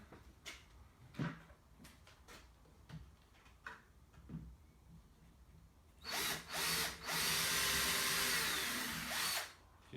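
A power drill drives a self-tapping screw into conduit trim, first a series of quiet knocks and handling taps, then loud bursts of whirring drill noise toward the end, with no speech.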